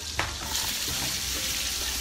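Chives fry in a hot pan with a constant loud sizzle and crackle, stirred briefly near the start, and the oil keeps hissing evenly throughout.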